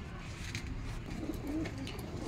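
Punjabi Malwai pigeons coo softly in a few low, rolling calls against a steady hum of background noise.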